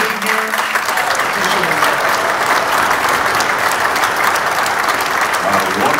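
Loud, dense applause from a jazz concert audience in San Jose for a guitar group with a violinist, sustained at full strength throughout, with some crowd voices mixed in.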